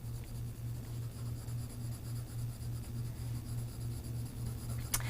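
Colored pencil shading on paper, filling in a leaf with green along its vein lines, a soft continuous scratchy rubbing close to the microphone over a low steady hum, with a faint tap near the end.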